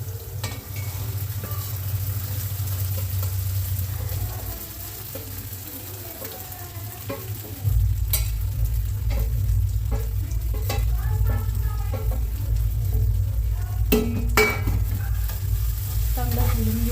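Sabudana being stirred and fried in a pan with green chillies: continuous loud sizzling with a low rumble that rises partway through, punctuated by sharp scraping and clinking strokes, close with no talk.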